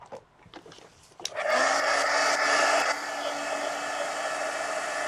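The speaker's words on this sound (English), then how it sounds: "Let's hit it with the heat gun." Heat gun switched on over a mixed media lizard drawing: a few light taps and handling clicks, then a sudden loud, steady blowing whir with a faint motor tone that continues close and unbroken to the end.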